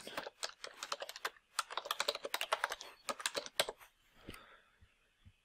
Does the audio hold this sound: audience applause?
no